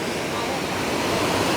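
The Kanthanpara waterfall pours down in a dense, steady roar of rushing water, loud and close, with no break across the short stretch.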